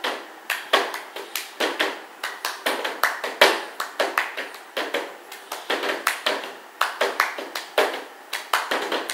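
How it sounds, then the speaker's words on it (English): Hands clapping and tapping the Cup Song rhythm without cups, a steady, close, loud pattern of sharp claps and slaps repeating throughout, with no talking. "So first thing you have to do is 1, 2 claps first."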